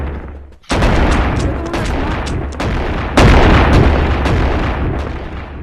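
Modded shotgun firing in the VR game Animal Company, producing loud, dense, overlapping blasts of rapid gunfire in a continuous barrage with no pauses, close and harsh.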